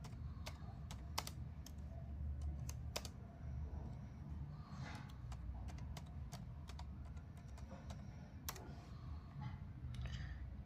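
Keys clack steadily on a computer keyboard as a channel name is typed into an Excel spreadsheet, the quiet, irregular taps running close over a low room hum throughout.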